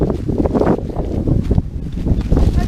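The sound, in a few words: wind blowing during a hike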